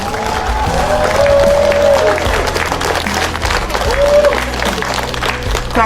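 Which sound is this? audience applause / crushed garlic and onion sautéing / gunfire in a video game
audience applause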